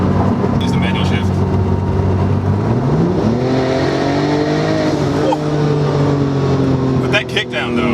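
A 2008 Porsche 911 Turbo (997) engine drops a gear on kickdown and surges, its loud roar climbing steadily in pitch as it accelerates hard, close by.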